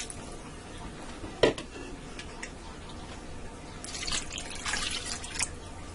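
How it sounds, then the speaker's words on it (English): Water splashes and trickles into a Ninja cooker pot holding chicken for Italian wedding soup, a brief sharp splash followed by a soft, uneven pour, faint against quiet kitchen background. "And I'm also going to add in 6 cups of water."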